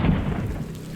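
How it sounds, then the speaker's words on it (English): A thunderstorm with steady rain and deep, rolling thunder rumbling throughout, a continuous loud wash of low noise with no voices. "the rain was lashing against the windows. I could see bolts of lightning illuminating the sky and thunder crashing in the distance"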